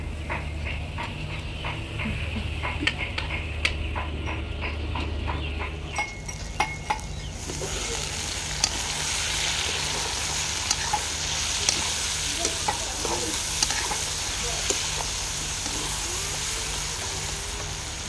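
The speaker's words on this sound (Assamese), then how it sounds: "ৰঙচুৱাকৈ ভাজি ল'লোঁ" Chicken and tomato frying in a pan for an Assamese home-style curry, a steady loud sizzle with occasional stirring scrapes, grows fuller and hissier partway through and continues alone without talk.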